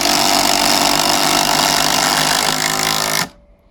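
A Makita impact driver runs flat out for about three seconds, a loud, close, rattling high-pitched hammering whine that stops abruptly, leaving near silence.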